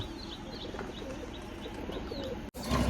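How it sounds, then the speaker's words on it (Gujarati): A pigeon sits outside a village pigeon loft and gives soft, repeated coos and short calls over a steady outdoor background, fairly faint and without voices, ending in a brief knock. "કબૂતર રહ્યું છે બહાર જો એક બેઠું છે"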